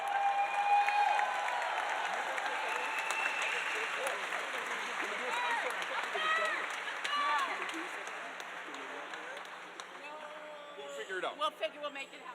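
Audience applause at a charity dinner auction for puppies, a spread-out clapping crowd lasting several seconds with voices and cheering mixed in, fading toward the end.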